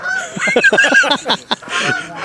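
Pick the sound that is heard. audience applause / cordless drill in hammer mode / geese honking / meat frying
geese honking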